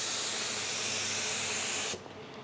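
Steady, loud hiss of a spray gun laying finish on cabinet doors and face frames for about two seconds, then cutting off abruptly, leaving a faint background hum.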